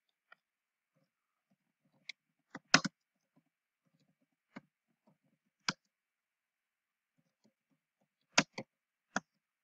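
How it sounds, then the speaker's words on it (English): Sparse key presses on a computer keyboard while entering a cell label in an Excel spreadsheet: a handful of soft, close clicks spaced irregularly, with a quick double tap, in an otherwise quiet room. "we're going to type current inventory"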